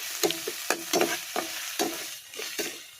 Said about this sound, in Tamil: இஞ்சி வெள்ளைப்பூடு வந்து இப்போ நல்லா வதக்கணும்